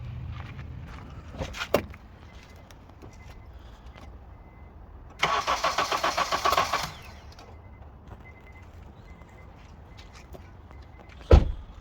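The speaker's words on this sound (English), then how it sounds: "Now let's start the engine, we'll see." A 2004–2006 Honda CR-V 2.4L engine cranks in a rapid rhythmic whir for about two seconds without catching, amid quiet background clicks and hum.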